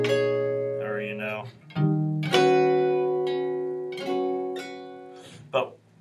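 Sustained piano-like chords with tensions and extensions ring out one after another in a music theory lesson, each held and slowly decaying, with brief speech between some of them.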